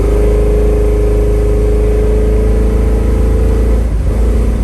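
A 1964 Chevrolet Chevelle accelerates hard at close range, its loud steady engine roar rising in pitch through one gear before a brief dip and shift near the end, with no talking.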